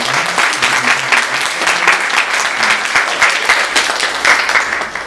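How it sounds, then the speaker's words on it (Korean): A church congregation at a Sunday worship service claps warmly to welcome visiting family members, loud sustained applause from many hands that tapers off at the end. "다 같이 박수로 환영하고 축하드립니다"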